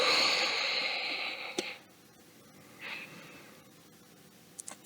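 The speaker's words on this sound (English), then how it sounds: "take a couple of deep inhales and exhales" Deep yogic breaths during a yogalates session: one long, airy exhale at the start, then a softer inhale midway and a couple of faint, brief sniffs near the end, all quiet and without talk.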